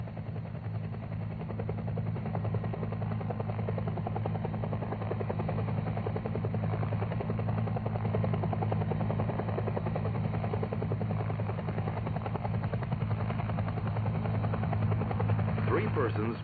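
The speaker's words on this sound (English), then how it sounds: "Use the treetops to conceal your aircraft while hovering." A UH-1 helicopter hovering above treetops during a tactical recovery, its rotor and engine producing a constant, loud, rhythmic thudding drone for the whole stretch, with a narrator speaking over it.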